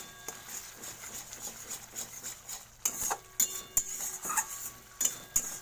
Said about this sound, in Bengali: একটু নাড়তে হবে যাতে লেগে না থাকে।